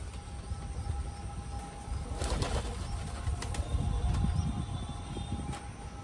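Pigeons gather on a rooftop with soft cooing and the occasional flutter or flap of wings. Steady outdoor ambience hangs underneath, and a brief burst of louder rustling passes through the middle.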